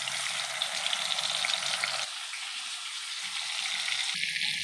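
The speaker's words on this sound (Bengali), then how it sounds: "চিংড়ি মাছটা দিয়ে দিলাম ভাজার জন্য" Prawns rubbed with salt and turmeric fry in hot oil in a wok, giving a loud steady hiss and crackle that drops in level midway and then swells again, with no voices.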